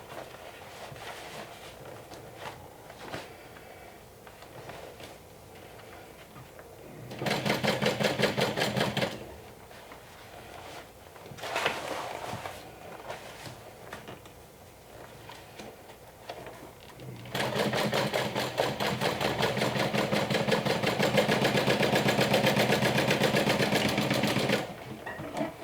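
A sewing machine stitches a bag's lining and side panels in two long, loud bursts of rapid, even whirring. Quieter handling sounds of fabric fill the pauses between runs, and no one speaks.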